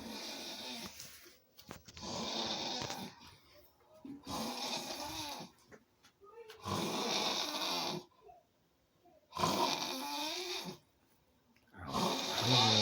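A man snoring loudly and close by, with long rasping, rattling breaths in a slow regular rhythm and short quiet pauses between them, with no talking.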